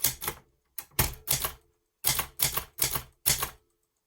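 A typewriter is being used to type out a short word for a mixed media craft tag. Several quick bursts of close, crisp keystrokes are separated by brief pauses, with no talking.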